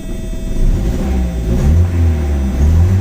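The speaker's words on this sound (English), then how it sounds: "So let me go ahead and start her up so you guys can see." A 1985 Mercedes 190E with a euro-spec 2.0 engine and five-speed starts and revs up, its close, loud engine note rising and falling through a couple of pedal blips with a rough-edged whir, and no talking.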